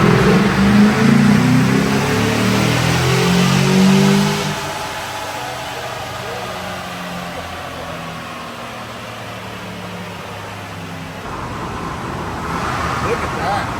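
A 2016 Silverado truck with 470,000 km on it runs on a dyno, its engine revving loudly with a rising harmonic whine, then easing to a lower idle-like drone; someone speaks over it.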